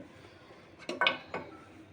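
Pilau rice for an ilish pilau lunch being spooned onto a plate: a few close clinks and scrapes of a serving spoon against the plate, three short bursts in the middle of an otherwise quiet kitchen, with no talking.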